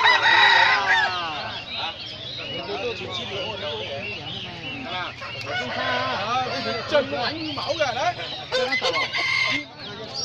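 Chickens and roosters at a Vietnamese poultry market cluck and crow close by, with a loud crow at the start and overlapping calls throughout, while people talk over them.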